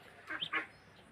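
Eleven fifteen-day-old ducklings give two or three short, high peeps in quick succession, close by but fairly faint.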